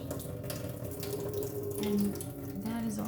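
Water pours and splashes out of a sprouting jar into a sink, a continuous close rushing flow with small gurgles lasting the whole moment, no talking over it.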